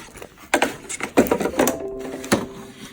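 An embroidery sewing machine stitches a zipper bag with an uneven mechanical whirring and clicking, along with scattered handling knocks and a faint whine.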